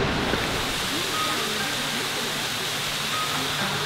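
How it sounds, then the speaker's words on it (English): A waterfall rushes in a constant, broad roar from some distance, with a faint voice barely audible beneath it. "I think I can hear a waterfall."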